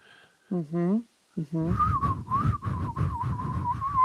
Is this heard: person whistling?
yes